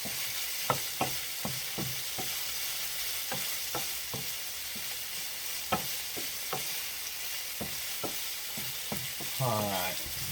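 Cheesesteak filling being stirred and mixed on a hot griddle while frying, with steady sizzle and a dozen sharp spatula scrapes and clacks spaced irregularly throughout, close and clear with no talking.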